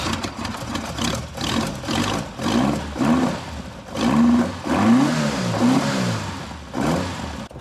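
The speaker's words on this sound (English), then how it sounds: "Love the sound of twin carbs" A twin-carb engine in a Ford Escort built as a driver's car rumbles loudly at close range and is blipped up and down in repeated rising and falling revs.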